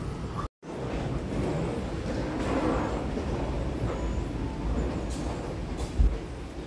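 Lodaya passenger train pulls in at Bandung station, a continuous rumbling roll with rattling carriages and platform bustle, fairly loud and steady with a brief dropout early on.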